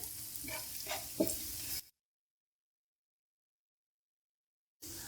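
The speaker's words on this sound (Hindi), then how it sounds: "हल्का सा हम इसको इस तरीके से मिक्स करेंगे ताकि ये मसाले का कच्चापन दूर हो जाए।" Red chili powder masala for bhindi fried and stirred on a tawa, giving a short burst of sizzling and scraping that cuts to silence, then briefly returns.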